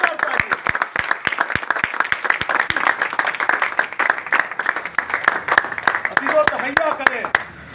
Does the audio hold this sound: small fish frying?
no